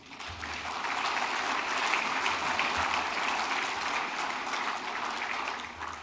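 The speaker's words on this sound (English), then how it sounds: "Let us take this opportunity and moment to applaud and express our deepest appreciation to everyone who has worked tirelessly behind the scenes." Sustained applause from an audience at the Prime Minister's International Business Awards ceremony in Fiji, a steady dense clapping that fills the room for several seconds with no voices over it.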